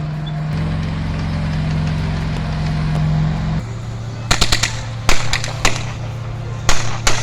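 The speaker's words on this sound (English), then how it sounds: "Suppressive fire from the tank" Gunfire from an M4 Sherman tank team laying down suppressive fire, a low engine rumble giving way to several loud, separated bursts of shots.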